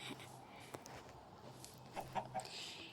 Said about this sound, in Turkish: Ben evimize tavuk mu girecek?